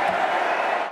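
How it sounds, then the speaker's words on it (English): A Democratic National Convention crowd in Philadelphia roars as Senator Bernie Sanders takes the stage, a dense, steady wall of cheering voices for about a second. "An energetic crowd was on its feet, roaring as Senator Bernie Sanders took the stage at the Democratic National Convention Monday night"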